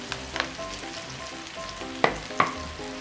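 Onion and sauces fry in a pan for butter chicken, giving a continuous sizzle with a few sharp clinks and scrapes of stirring and no talk.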